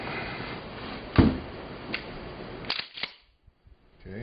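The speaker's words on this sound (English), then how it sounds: "so now I'm going to eject them into this box" Cast 12-gauge shotgun slugs drop from a Lee slug mold into a box, with a sharp metallic knock and a few lighter clicks and clatters, followed by a short quiet stretch and faint taps.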